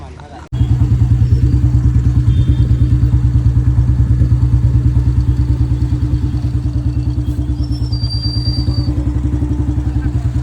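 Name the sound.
tractor engine running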